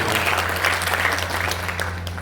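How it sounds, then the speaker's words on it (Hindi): Audience applause at a poetry recital for a founding-day event of a community group in Auraiya, India; dense, steady clapping from a crowd fills the whole stretch at even loudness, with a constant low hum underneath. "अगर आपका आदेश हो तालियां बजा के मुझे बता दीजिए"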